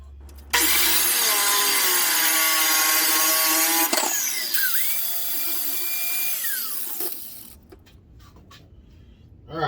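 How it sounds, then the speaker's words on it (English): A power saw cuts angled pieces of wood, a loud, close, whining buzz running several seconds with a brief break mid-cut before trailing off, followed by quiet handling noises. "We're going to cut these two angle pieces out."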